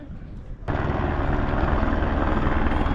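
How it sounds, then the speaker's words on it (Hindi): A helicopter arriving at the Manimahesh helipad suddenly becomes loud, its dense rotor and engine roar rising after a quiet start and holding steady and close. "तो गाइज़ ये आ गया है हेलीकॉप्टर"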